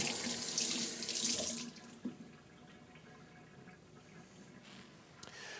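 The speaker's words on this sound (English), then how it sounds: "We're gonna wash it, of course. Rinse it off." An onion is rinsed under a running kitchen tap. Water gushes loudly into the sink at first, then settles into a steady, softer flow with occasional splashes.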